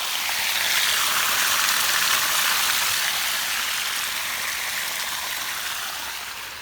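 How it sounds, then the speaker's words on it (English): Water pours steadily out of the open drain of an above-ground freshwater fish pond, a loud continuous rushing gush like a small stream that holds constant and eases off slightly toward the end. "go ahead and open the drain down here. There we go. Let this thing drain."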